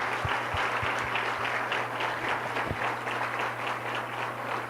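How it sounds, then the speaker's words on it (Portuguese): A church congregation applauds with sustained, dense clapping from many hands that keeps an even loudness throughout, with no talk over it. "E eu queria que vocês aplaudissem ao Senhor por causa disso."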